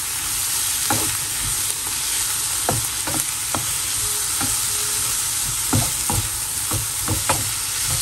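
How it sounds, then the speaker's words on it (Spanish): Garlic sizzles steadily in a frying pan, with sharp scraping clicks from a spoon or spatula stirring it at irregular intervals, close up and with no voices. "Y esperamos que esto ya esté sofrito para agregarle al arroz y hacer nuestro atún."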